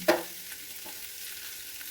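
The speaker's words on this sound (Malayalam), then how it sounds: "ഉള്ളി നല്ലപോലെ വാടിയപ്പോൾ കുറച്ച് ഇഞ്ചി വെളുത്തുള്ളിയും കൂടെ പേസ്റ്റ് ഇട്ട് കൊടുക്കുകയാണ്" Ginger garlic paste hitting softened onions in a hot pan: one sharp clatter at the start, then a steady close frying hiss with light stirring.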